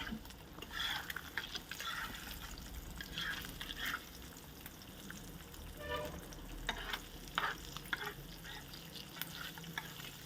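Two eggs fry in oil with turmeric in a pan, a soft, fairly quiet sizzle broken by stirring scrapes and small wet crackles and pops, with no voices.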